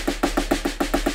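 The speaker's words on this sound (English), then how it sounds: "So it's double strokes in 16th note triplets," Drum double strokes in sixteenth-note triplets form a warm-up pattern: a quick, evenly spaced run of about eight crisp hits, played close and alone.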